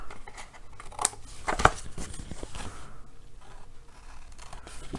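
Scissors trim the edge off a piece of card paper, making close crisp snips and a light scraping cut, with no voices.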